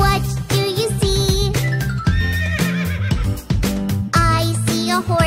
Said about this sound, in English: I see a horse. Neigh,